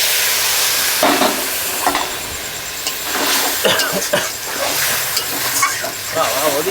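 Water splashed into a pan of fried taro for a spicy pangas and tengra fish curry, loud close sizzling and hissing with stirring scrapes, a voice briefly heard underneath.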